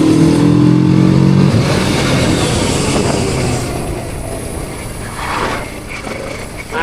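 A Kawasaki Z650 motorcycle engine drones loudly on the road while overtaking, a sustained roar with a brief rising rev early on, then easing to a steadier, slightly quieter rush.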